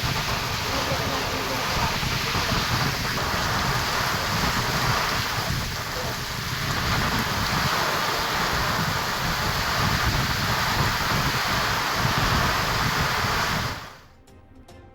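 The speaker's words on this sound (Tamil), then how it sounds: "தென்காசி மாவட்டத்தின் பல்வேறு பகுதிகளில் சூறைக் காற்றுடன் கனமழை" Heavy rain driven by gusty wind in Tenkasi district roars as a dense, continuous wash of noise with buffeting on the microphone, cutting off near the end.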